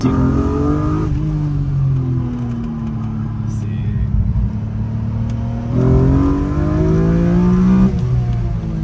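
A BMW M3 E36 engine revs and climbs through the gears, rising pitch dropping at each shift, loud and close from inside the cabin.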